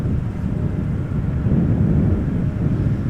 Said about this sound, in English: This is KLM flight 1710 arriving from Luxembourg. Embraer 175.